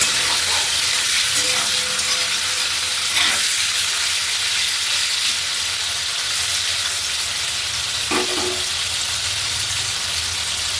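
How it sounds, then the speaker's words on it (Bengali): Paneer fries in hot oil over a medium-low flame, a steady loud sizzle and hiss with a few brief clinks of stirring and no talk. "এই তেলটা আমার পনিরটা ভাজা হয়ে গেছে"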